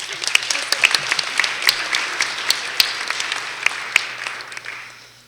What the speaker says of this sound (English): So please applause for Alexa.